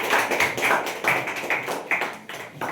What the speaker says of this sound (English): Clap for Priyanshu.